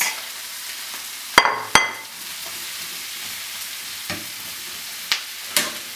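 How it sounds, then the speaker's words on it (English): Sliced mushrooms hit a hot pan over medium-high heat in a green bean casserole recipe, setting off a steady close sizzle punctuated by a few sharp clacks and scrapes of stirring. "Next, I'm going to be putting my sliced mushrooms, just like that."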